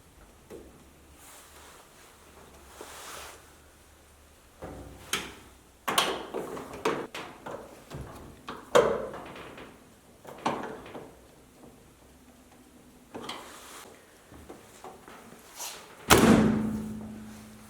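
A dryer door is reinstalled on a home clothes dryer, with a series of close thuds, knocks and clicks of metal panel and hardware, spaced irregularly, ending in one heavy thump, no talking.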